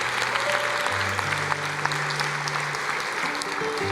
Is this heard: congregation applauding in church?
yes